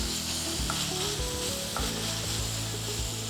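Black pepper and chili flakes sizzle in a pan for chicken macaroni, a continuous close frying hiss over a steady musical backing, with no talking.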